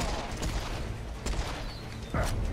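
Rapid automatic gunfire from Serious Sam: Siberian Mayhem, a dense continuous rattle of shots with a sharper burst near the end, loud and up close.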